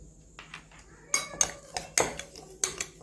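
A spoon stirring half a teaspoon of sugar with black salt and regular salt for a strawberry mocktail, giving light metallic clinks and scrapes against a glass or bowl that grow louder and sharper midway.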